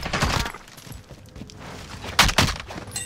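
Gunfire in the video game Warzone, with a burst of rapid shots at the start and a second loud volley near the end, sharp and close, separated by a quieter gap.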